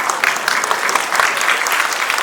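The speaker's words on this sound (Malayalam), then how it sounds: "വ്യാസഭായി ഒരു കയ്യടി വാങ്ങിച്ചു പ്ലീസ്" An audience claps for a guest being introduced at a stage event, with steady, dense applause holding at full strength throughout without pause.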